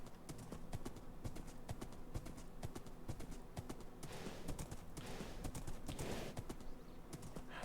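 A horse's hooves clip-clop steadily in a video game, a quiet, fast rhythmic patter of many hoof clicks over a faint low background hum.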